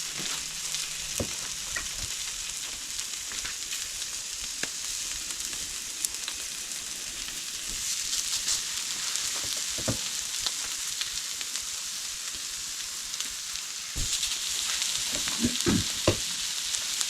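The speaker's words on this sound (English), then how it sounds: "let's make some little patties and get them on the barbie ready to go" Homemade burger patties sizzle on a barbecue grill with a steady, close frying hiss and scattered pops and crackles, rising slightly in intensity partway through.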